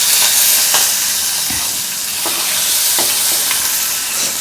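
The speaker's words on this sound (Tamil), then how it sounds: "கடுகு பொரிஞ்சோடனே கருவேப்பிலை போட்டுக்கலாம்" Curry leaves drop into hot oil in a home egg curry pan after mustard seeds have spluttered, giving a steady close sizzle and frying hiss with a few sharp crackles and pops scattered through.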